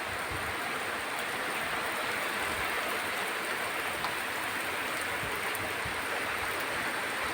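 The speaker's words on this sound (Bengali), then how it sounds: "সারাদিন বৃষ্টি কাল রাতে থেকে বৃষ্টি হচ্ছে" Rain falling steadily outdoors after a full day and night of downpour, a dense, even hiss of water with no distinct drops standing out, moderately faint and unbroken.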